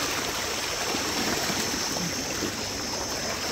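Canal water flows steadily with a constant rushing, trickling wash, close by and uninterrupted, with no voices.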